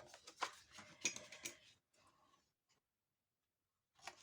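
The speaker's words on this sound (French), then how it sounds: "là, dans un premier temps, on va couper en biseau" Close, dry scraping and snipping of paper being cut at a bevel for a handmade mini photo album, a dense burst of sharp strokes for about two seconds, then quieter rustling fading to silence before one more brief cut.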